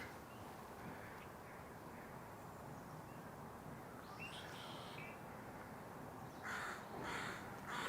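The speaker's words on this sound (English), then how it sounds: "American crow." American crow cawing outdoors at a marsh in breeding season, a few harsh calls at moderate distance, the loudest bursts near the end, over steady outdoor background noise.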